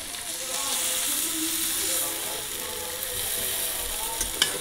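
Boiled potato and bitter gourd sauté in a pan with a continuous close sizzle and hiss, occasional stirring scrapes and clinks breaking through toward the end.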